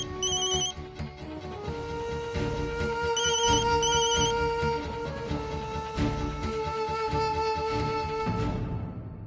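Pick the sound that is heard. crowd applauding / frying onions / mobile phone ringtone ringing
mobile phone ringtone ringing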